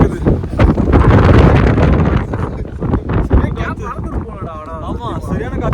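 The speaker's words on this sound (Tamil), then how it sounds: "ஆமா, சரியான காத்து அடிக்குது." Strong wind on the Z Point trek in Chikmagalur, loud gusty buffeting over the microphone with brief voices talking in between.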